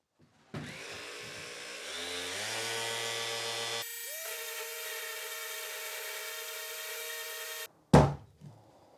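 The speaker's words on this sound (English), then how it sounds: "Let's hit this for some sanding for a certain amount of time." A cheap power sander whines loudly and steadily on wood for several seconds, its pitch shifting partway through, then cuts off, followed by a sharp thunk.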